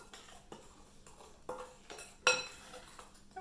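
A spoon stirs a milk and batter mixture for Swedish almond cake in a bowl, with a few soft scrapes and sharp clinks against the sides, close and moderately loud, with no talking.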